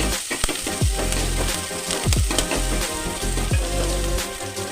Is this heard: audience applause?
no